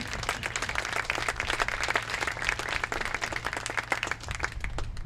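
Steady audience applause fills a hall at a baseball awards night honoring Silver Slugger winner Kobe Sen, a dense continuous patter of many hands throughout.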